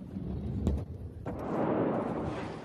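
Massive blast at the port of Beirut on 4 August 2020, heard as deep rumbling booms with two sharp hits, then a broad roaring wash of noise swelling and lingering, no voices.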